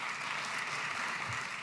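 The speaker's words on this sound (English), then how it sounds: "Let's give yourselves a round of applause for staying." An audience at a talk on criminal justice reform claps steadily in a short, even burst of applause heard from within the room.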